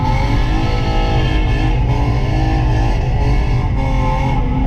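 BMW E36 engine revving hard on throttle, a loud continuous roar with rising and falling pitch held close for several seconds, no voices.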